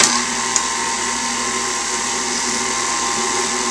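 Electric mixer running on low, beating homemade frosting in a bowl: a steady, loud mechanical whine with an even hum that holds throughout, with a brief knock near the start.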